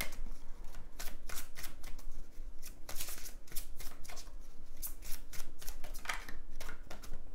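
Tarot cards are shuffled and drawn in a steady, close run of quick riffling flutters and soft slaps, continuous and fairly quiet with no talk.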